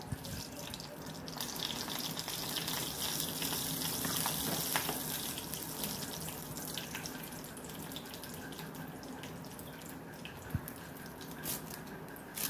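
Dry red chillies and mustard seeds spit and crackle in hot oil, a steady close-up sizzle with scattered pops running the whole time, no one talking.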